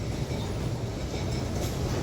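A Kolkata tram at the Esplanade tram terminus gives off a steady, low rolling rumble with faint rattling, continuous and fairly close throughout, with no voices.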